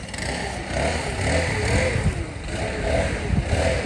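Leaf blower running during lawn work, blowing off freshly mowed grass, a steady engine drone and broadband airy roar that waver slightly, fairly close and continuous, with no talk.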